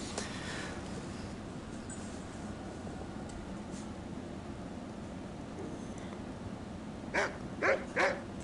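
Siberian Husky puppy indoors, heard as a few short faint barks and whimpers near the end over a steady hum of air conditioning, with no talking.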